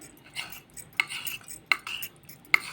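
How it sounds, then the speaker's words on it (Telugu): A spoon stirring custard powder into milk in a bowl, with soft scraping swirls punctuated by three sharp clinks against the bowl, close and fairly quiet, no talking. "ముందుగా కొన్ని పాలు తీసుకొని ఒక 4 tea spoons fruit salad custard powder వేసి బాగా గడ్డలు లేకుండా కలుపుకోవాలి"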